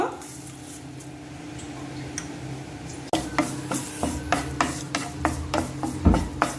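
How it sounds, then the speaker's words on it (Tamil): A handful of curry leaves dry-roasting with salt in a pan for homemade sambar powder: after a quieter start, a spatula scrapes and rustles through the crisp leaves in a steady rhythm of close, dry strokes. "கருவேப்பிலையை இப்படி நல்லா வறுங்க."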